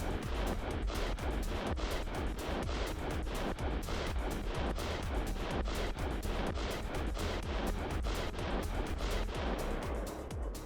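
Twin aircraft guns in War Thunder fire in a fast, steady stream of loud, close cracks that run without pause through the whole burst, with no talk.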